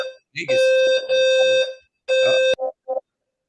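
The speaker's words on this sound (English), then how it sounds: "Somebody's fire alarm going on." A fire alarm goes off during a sports talk show, sounding as two long, loud, steady electronic tones followed by two short beeps, with brief pauses between them.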